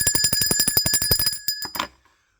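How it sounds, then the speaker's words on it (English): A bright metallic bell rings in a rapid, evenly spaced series of strikes, loud and close, then stops abruptly and decays into silence. "Let's ring the bell for that."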